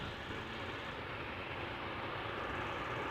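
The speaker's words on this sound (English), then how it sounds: "Here we have a KLM Embraer 190." A KLM Embraer 190 taxiing at Amsterdam Schiphol gives a faint, steady, broadband jet-engine hum at a distance, with no talk.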